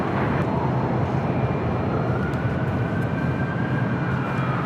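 A heavy airliner takes off from runway 25 Right at Los Angeles International Airport, a loud, sustained jet roar rumbling steadily throughout with no voices.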